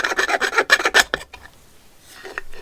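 A homemade head badge for a Surly Straggler bicycle is sanded by hand: a quick run of about seven close, loud rasping strokes, then near silence, with a faint scrape near the end.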